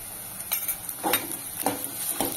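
Chopped onion with ginger garlic paste sautéing in a pan, a faint steady sizzle broken by several soft scraping stirs of a spoon against the pan.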